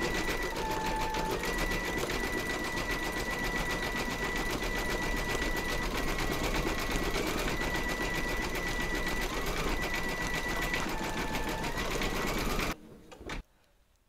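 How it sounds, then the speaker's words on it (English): An embroidery sewing machine satin-stitches the last flower in hot pink thread, a steady fast mechanical whirr running loud and continuous before stopping abruptly near the end. "Load a matching bobbin and thread colour for the satin stitching of the last flower into your machine, and then stitch round number 13"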